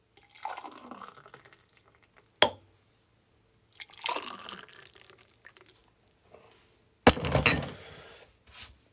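Liquid pours into a glass for a nutmeg-garnished drink in short splashing bursts, with a sharp glass clink between pours and a bright, louder clatter of glass near the end.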